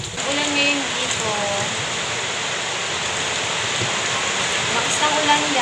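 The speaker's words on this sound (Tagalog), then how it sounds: "Ulan ngayon dito." Steady rain falls outdoors in a continuous broadband hiss, with no clear speech in this stretch.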